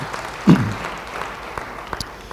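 Church congregation claps briefly during a sermon, a short burst of applause with the preacher's voice around it.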